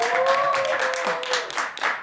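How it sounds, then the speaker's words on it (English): Studio audience applause on a late-night television comedy news show, a steady wash of clapping lasting a couple of seconds, fairly loud, with a few tonal music notes running underneath. "a round of applause"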